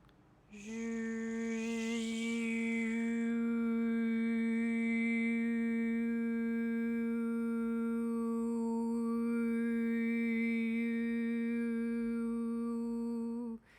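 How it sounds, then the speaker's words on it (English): A steady droning hum with a strong low tone and a whooshing, sweeping upper layer, sustained for about thirteen seconds like a vacuum cleaner running. "That's the sound of the cosmic vacuum cleaner."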